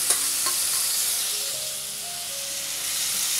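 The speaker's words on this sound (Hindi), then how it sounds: "अब प्याज को ऑयल के साथ मिक्स करके ना हमें लाइट ब्राउन होने तक इसे भून लेना है" Chopped onion sizzles steadily in hot oil with a cumin tempering while being stirred, a continuous close, even frying hiss with a few faint clinks throughout.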